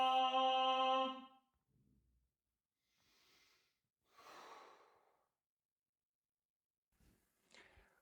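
During a stage-speech voice training exercise, a sustained voiced tone is followed by a series of quiet breaths: soft exhales and inhales separated by pauses, with a faint sniff near the end.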